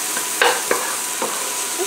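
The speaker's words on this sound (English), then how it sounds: "I always like to saute my onions and peppers first before I add the garlic." Onions and peppers sauté in hot oil in a pan for naan pizza, giving a steady close sizzle with a few brief stirring scrapes and clatters over it.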